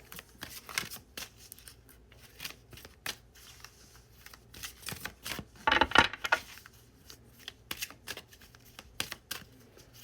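Tarot cards being shuffled by hand, a steady patter of soft riffling flicks with a denser flurry in the middle, close and fairly quiet with no talking.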